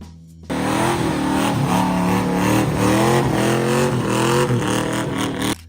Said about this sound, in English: The 1968 Dodge Dart GTS with the 440.